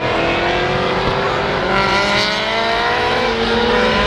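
A Mercedes race car cruises on a cool-down lap at a motorsport festival, its engine a loud, steady drone with rising and falling harmonics held up close for the whole stretch, with no voices.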